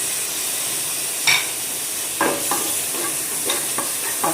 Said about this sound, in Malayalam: തക്കാളി ഇട്ടിട്ട് ഒന്ന് ഇളക്കി കൊടുക്കുക.